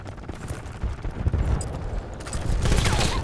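Gunfire in the video game Battlefield Bad Company 2, Panama Canal map in Conquest mode: dense, rapid bursts of shots with rumbling explosions, loud and continuous, building toward the end.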